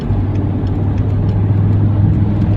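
A BMW E60 M5 at high speed on the road, heard from inside as a loud, steady engine drone with a strong low hum and constant road rumble, with no voices.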